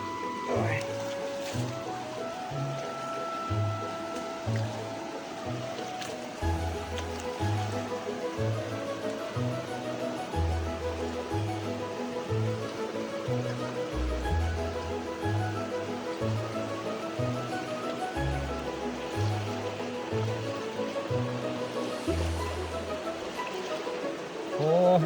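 Strong rushing water of the São Domingos creek in a forest, a steady dense wash filling the whole stretch with a low rhythmic thumping underneath.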